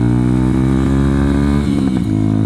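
A motorcycle engine idles and revs close up, a loud steady mechanical drone with a slight rise in pitch toward the end.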